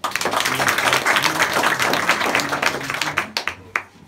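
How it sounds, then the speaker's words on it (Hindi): Students at an intercollege adolescent education event in Motipur, Azamgarh clap together in a sustained round of applause, which then thins into a few scattered, separate claps before stopping. "इसके लिए आप लोग सर के लिए ताली बजाइए।"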